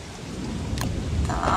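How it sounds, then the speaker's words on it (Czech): Rain falls steadily in the video game Don't Starve: Reign of Giants, a dense hiss with a low rolling rumble of thunder beneath it, continuous and fairly loud, with no talking. "Vážně, mohlo by začít přestat pršet."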